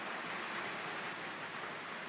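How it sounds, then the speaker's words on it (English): Steady rain coming down outside a workshop, a continuous even hiss of fairly loud broadband patter with no breaks or other sounds over it. "Yeah, you can hear that rain coming down."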